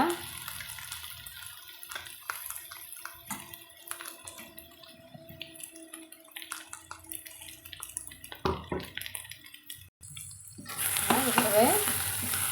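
Tomato paste sautéing with eggplant masala in a pan: a quiet sizzle and intermittent scraping stirs, then a louder burst of sizzling near the end, with no talk over it.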